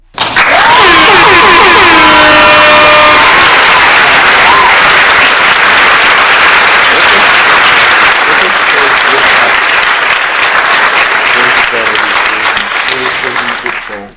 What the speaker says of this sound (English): let's give this man a round of applause before we even begin